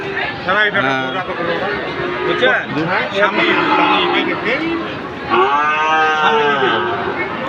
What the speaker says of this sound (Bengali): আপনারা দেখছেন সুন্দর সুন্দর শাহিওয়াল সার গরু সংগ্রহ করলেন